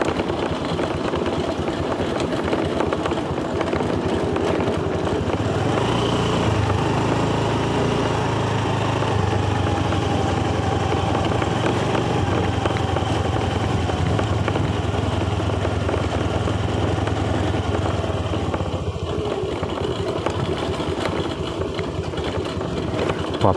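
Motorcycle engine running steadily while riding a narrow, moss-covered mountain road through forest, a continuous low drone with a deeper rumble swelling through the middle, near and loud with no talk.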